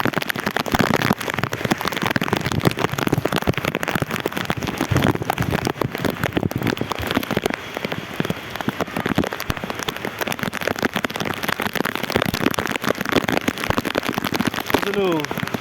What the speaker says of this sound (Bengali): কি বৃষ্টি হচ্ছে দেখুন।